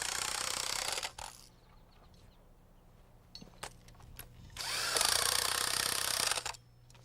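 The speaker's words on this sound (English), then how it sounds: "I like to tighten them down with an impact wrench" Two bursts of an impact wrench driving nuts onto mud sill bolts during floor framing, each about a second or more of loud rattling hammering with a quiet pause between.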